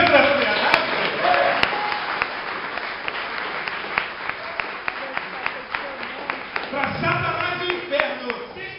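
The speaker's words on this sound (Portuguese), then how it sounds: "Você pode aplaudir a Deus para as coisas" A church congregation claps along in steady rhythmic beats, a crisp repeated pulse running under continuous speech and music in a reverberant worship hall.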